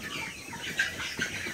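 Hens and chickens on a poultry farm at early-morning feeding time give close, continuous overlapping clucks and soft calls with no talk.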